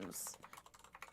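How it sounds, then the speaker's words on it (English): Quick keystrokes rattle on a computer keyboard in an irregular burst of close taps, following a short bright noise and a brief voice at the start. "I'm typing."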